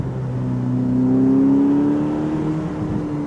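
A Ferrari SF90 Spider convertible in race mode revs loud and close, its engine note swelling and climbing smoothly before easing back slightly, with no talk over it.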